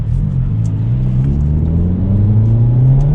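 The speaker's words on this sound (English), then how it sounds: "And the exhaust actually gets a little bit louder in sport mode." 2023 Hyundai Elantra N exhaust in sport mode, a loud, close engine drone climbing steadily in pitch as the car accelerates, with no talking.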